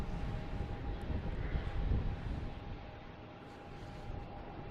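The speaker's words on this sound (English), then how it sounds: "All right, we have American Airlines at the pole position. Should be taking off, heading to Chicago." American Airlines E175 jet bound for Chicago taking off at Boston Logan Airport on Christmas Eve, a steady broad engine roar heard from a distance, swelling slightly then holding, with a faint tonal whine and some wind across the microphone.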